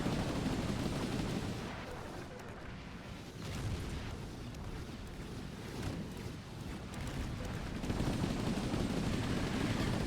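Grenade launchers firing in Chromehounds mech combat, a dense rumbling barrage of booms and blasts rolling on steadily with swelling and easing loudness.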